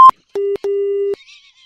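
A telephone line after a prank call is cut off: a short high beep, then two steady lower tones, a brief one and a longer one, separated by silence, before faint noise.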